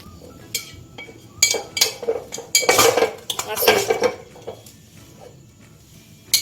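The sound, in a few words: mixing jhal muri with mustard oil in a bowl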